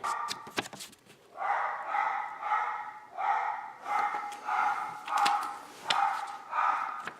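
Dogs bark repeatedly in a steady rhythm of roughly one bark per second, moderately loud and slightly distant indoors, with sharp clicks and knocks at the start.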